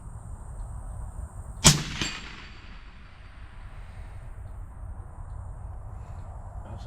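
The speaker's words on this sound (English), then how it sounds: "We're about to let it rip. I'm shooting the orange steel target." A single sharp suppressed .308 rifle shot from a Christensen Arms MPR, fired at an orange steel target outdoors, cracks loudly and decays quickly, followed by a faint echo and steady low background rumble.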